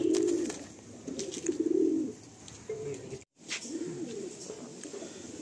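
Madrasi pigeons at a loft coo in low, throaty bursts, repeated several times close by, with faint talk in the background.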